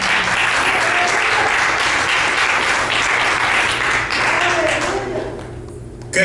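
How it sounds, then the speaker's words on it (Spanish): A church congregation bursts into loud, dense applause during a sermon, sustained clapping that fills the room and fades slightly near the end. "Dale un aplauso"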